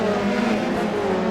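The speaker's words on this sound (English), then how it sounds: "But the engines are revving." Formula 3 race cars at the start of a Long Beach street race, several engines droning and revving together in a steady, loud mechanical hum at some distance, without any talk.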